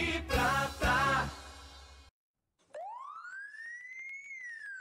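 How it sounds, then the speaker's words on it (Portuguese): A police siren sound effect in a Brazilian TV broadcast, rising into a single sustained wail after a burst of loud music and a brief silence, close and prominent with no voices. "Solta aí a sirene, rapaziada."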